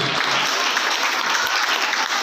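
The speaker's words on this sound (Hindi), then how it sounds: "एक जोरदार ताली देंगे, 430 हमारे साथ में आदमी।" Loud, dense applause from an audience at a felicitation event for Independence Day, a continuous wash of many hands clapping at once that stays steady from start to finish.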